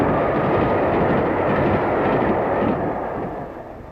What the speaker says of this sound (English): But the fastest start-to-finish train in the country, the Bristolian, is still steam-hauled.